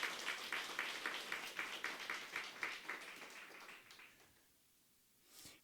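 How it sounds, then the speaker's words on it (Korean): A church congregation gives a short burst of applause during a Sunday worship service, rhythmic steady clapping at moderate distance that fades out after about four seconds, followed by a brief rustle. "박수를 한번 쳐드리죠"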